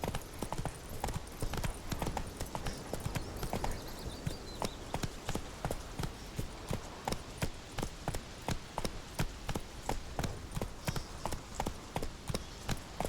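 Horse hooves galloping in The Witcher 3: Wild Hunt, a fast, steady clip-clop rhythm that runs unbroken throughout, close and prominent, with a faint voice briefly underneath.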